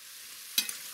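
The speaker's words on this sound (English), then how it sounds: "I'm just going to quickly fry the shrimp." Shrimp quickly frying in a pan for a Cajun-style shrimp chowder, a steady bright sizzle with a brief stirring clatter partway through.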